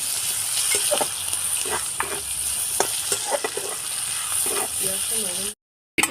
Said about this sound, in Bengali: কুচো করে রাখা পেঁয়াজটা দিয়ে দেবো সামান্য একটু লবণ দিয়ে দেবো